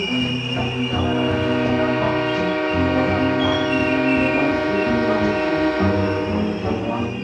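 Onboard an Austrian Railjet train nearing Vienna, a steady loud rumble of the carriage fills the space, with a low engine-like drone and sustained tonal hum running continuously without pause or voices.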